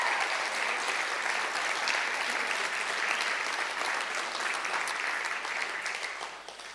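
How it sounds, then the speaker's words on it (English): TEDxRuakura 2020 audience applauding a speaker named Stu, a dense, steady wash of clapping from a large crowd, sustained throughout and tapering slightly at the end. "another round of applause for Stu"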